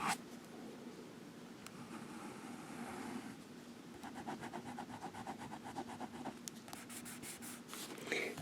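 A Sheaffer Triumph fountain pen nib writes on smooth Rhodia paper, giving quiet, close scratchy strokes in short bursts over a low steady hum, quickening into rapid repeated strokes toward the end.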